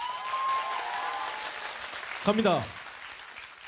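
Studio audience applause at a live Korean TV concert broadcast, a steady wash of clapping under a host's voice, with a brief sung or spoken phrase cutting through near the end.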